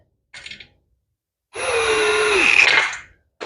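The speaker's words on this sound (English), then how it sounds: "Let's do a little drill action." A power drill whirs steadily for about a second and a half, its motor pitch sagging slightly as it loads, after a brief earlier burst, while assembling wall-mounted garage storage shelves.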